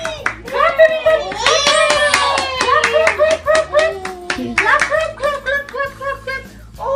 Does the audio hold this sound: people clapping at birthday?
yes